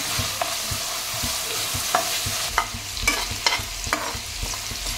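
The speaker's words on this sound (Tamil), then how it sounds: "ட்ரையாக வறுத்துக்கிறேன்." Spices and halved green chillies dry roasting in a pan for a village-style country chicken curry, with a steady crackling sizzle and repeated close scrapes of a ladle stirring, no talking.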